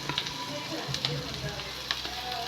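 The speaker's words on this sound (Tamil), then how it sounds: "இப்போ நல்லா வணக்கிறோம்" Spiced masala for a cowpea curry, with coriander powder and turmeric, sizzles steadily in a hot pan, with occasional sharper crackles and soft scraping as it is stirred; no voices.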